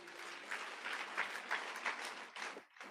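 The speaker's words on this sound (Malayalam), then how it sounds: "കൈയടിക്കാം" A church audience at a Bible study session applauds, a faint, even patter of many hands lasting a few seconds before it tapers off abruptly.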